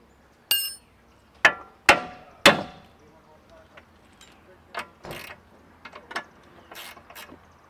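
A shaft is hammered out on a MINI Cooper S during engine and transmission removal: three or four sharp, ringing metal blows close by, then lighter clinks and knocks.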